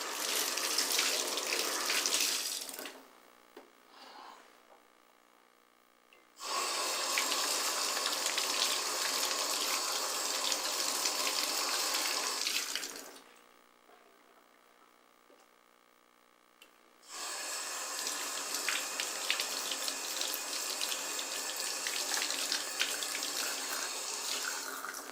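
Tap water runs hard into a sink in three long steady gushes separated by quiet pauses, rinsing and flushing the attachments of a US Army MOLLE II hydration carrier, with no talking.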